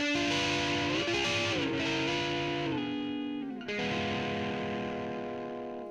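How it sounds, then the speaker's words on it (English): Electric guitar chords ring out through a Danelectro Fab Slap Delay pedal, repeats smearing each note into a washy, echoing tail, with a chord change partway through. "this sort of delay gives a bit of a reverb effect"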